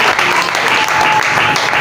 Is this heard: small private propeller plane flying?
no